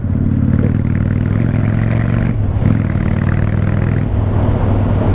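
Honda Shadow 600 motorcycle engine running at a steady, even idle throughout, its low rumble close and continuous with a brief dip midway.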